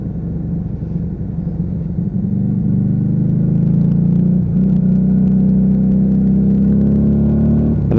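A Lexmoto Vendetta motorcycle cruises steadily in second gear, its engine a loud, continuous droning rumble that holds an even pitch throughout with no voices.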